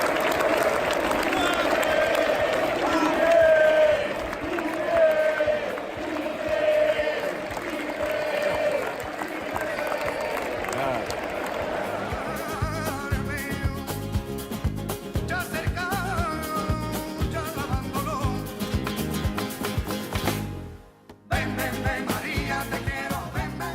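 A packed football stadium of about 65,000 home fans in Buenos Aires roars for River Plate against San Martin, a dense, continuous wall of cheering and clapping that carries loud from start to finish.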